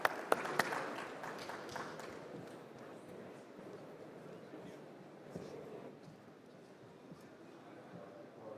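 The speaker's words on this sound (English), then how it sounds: "can we give a huge round of applause for this set of panel discussion" A fintech festival audience applauds a panel discussion, with an uneven spread of clapping and a few sharp close claps at the start that settle into a softer, thinning patter.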